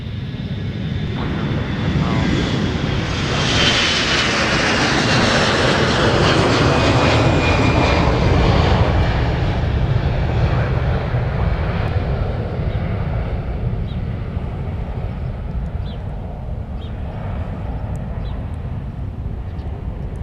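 Airbus A321 jet departing Minneapolis–Saint Paul airport, a loud sustained engine roar and rumble that swells, peaks, then slowly fades into a broad distant hiss.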